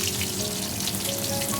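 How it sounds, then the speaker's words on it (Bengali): Black cumin seeds and crushed garlic cloves sizzle in hot mustard oil for a dal fry, a steady, dense crackling hiss held close and even throughout, with no voices. "এবার সর্ষের তেলের মধ্যে আমি একটু বেশি করে কালো জিরে দিলাম।"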